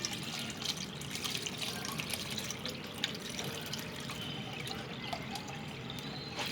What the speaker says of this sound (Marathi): लास्ट गाळून घ्यायचं पूर्ण.